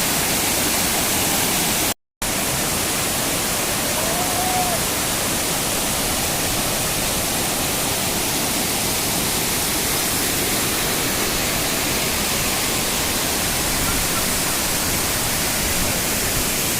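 Benki Falls in the rainy season, water pouring down forcefully in a loud, steady roar that fills the whole scene, briefly cut out for a moment near the start.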